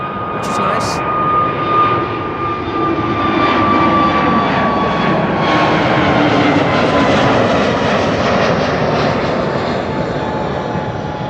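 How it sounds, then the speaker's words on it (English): A jet airliner rolls down a runway at Amsterdam Schiphol on a sunny day, its steady, loud engine roar swelling and holding throughout while someone talks over it. "A321neo, which one is this?"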